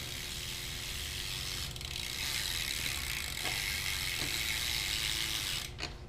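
A BMX bike's rear freecoaster hub, built up with premium parts and laced to an Alienation rim, buzzes with a steady, loud ratchet clicking throughout, a few sharper ticks standing out near the end.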